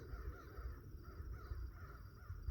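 A flock of ravens or blackbirds caws in a faint, distant cacophony of overlapping calls over a low rumbling background.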